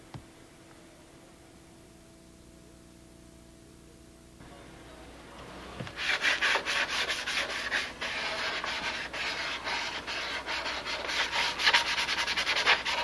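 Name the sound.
sanding a wooden block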